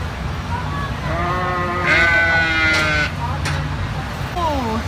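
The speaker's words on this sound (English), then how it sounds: "Hi, sheep." Several small sheep bleat repeatedly at a county district fair livestock pen, loud and close, with people talking nearby and crowd murmur underneath.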